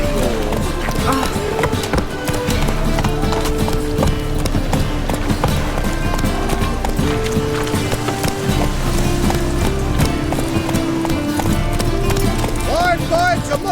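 A horse gallops in the video game The Witcher 3: Wild Hunt, its steady drumming hoofbeats running under loud game music and voices throughout.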